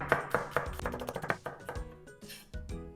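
A knife chops peeled, smashed garlic cloves into small pieces on a cutting board, a close series of sharp irregular taps with brief pauses, heard alone with no talking.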